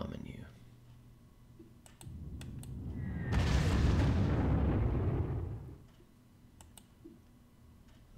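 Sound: bombing attack in Panzer Corps video game

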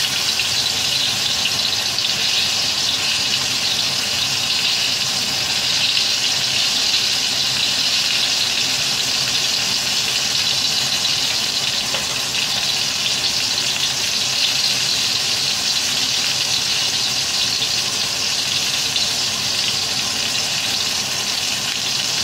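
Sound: water being added from a tap while cooking

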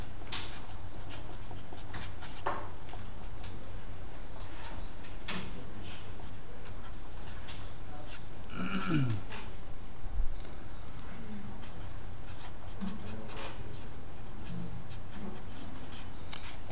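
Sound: writing out a calculation by hand

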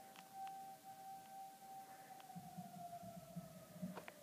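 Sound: tornado sirens being tested

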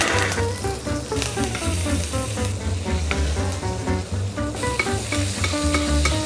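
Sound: confit Welsh lamb belly crisping and lamb fillet roasting in pan

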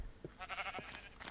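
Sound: sheep bleating in Minecraft, a video game

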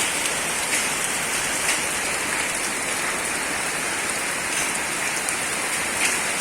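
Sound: hailstorm falling

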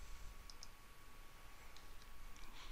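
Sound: mouse clicks on computer quick print application

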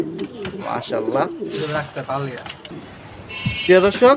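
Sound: racer pigeons cooing at a pigeon market

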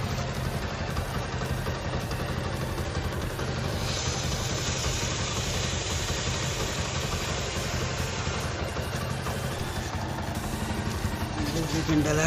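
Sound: Apache RTR 160 motorcycle engine running in gear

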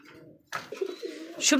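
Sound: Australian doves cooing

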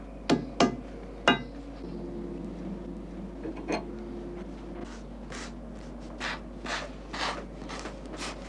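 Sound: hammer tapping shoe frame

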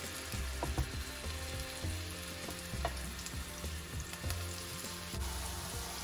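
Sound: chicken fry sizzling in oil in nonstick pan

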